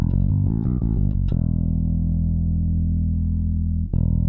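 A bass guitar played dry through a Joyo Monomyth bass preamp with the bass's active EQ bypassed: a quick run of short plucked notes, then a long sustained low note that rings out before another note is struck near the end.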